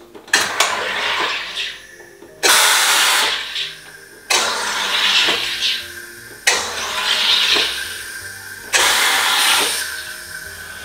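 A SodaStream pushes carbon dioxide into water in five one-second button presses. Each one is a loud, close, hissing buzz, and short pauses separate the bursts.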